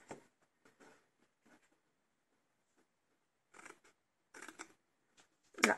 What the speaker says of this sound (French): On va découper notre papier.